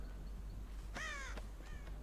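A crow caws in the horror video game Dead by Daylight: two harsh caws, the first longer and louder, the second shorter, over a quiet low ambient hum.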